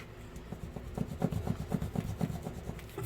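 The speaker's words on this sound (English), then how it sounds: "Burnish that real good." A close, soft rubbing scrape of a burnishing tool pressed over cardstock, repeating in quick, even back-and-forth strokes for a few seconds at low volume.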